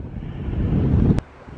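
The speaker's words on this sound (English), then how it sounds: "Cold, cold wind." Cold wind gusts past the microphone on a cloudy day in Portland, Maine, a low rumbling buffet for about a second before dropping abruptly to a quieter hush.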